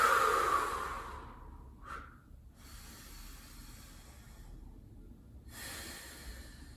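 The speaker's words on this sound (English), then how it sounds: "For a couple more deep breaths." Deep breathing during a morning yoga exercise, a strong close breath at the start, a short sharp inhale mid-way, then quieter hissing breaths with a final exhale near the end.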